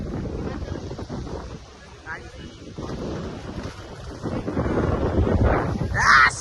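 Wind roars across an outdoor microphone at a palkhi procession, a loud continuous rumbling buffet that swells near the end, with a voice speaking over part of it.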